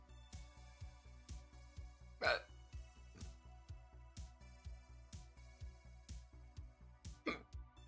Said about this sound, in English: now I got the hiccups